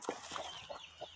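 An ISA Brown laying hen clucks in a short run of soft, close clucks, four or five quick notes over about a second.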